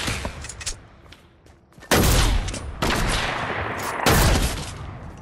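Gunfire in Fortnite: scattered sharp shots at first, then loud sustained bursts of rapid automatic fire with a brief dip and a final surge, close and aggressive, without talking.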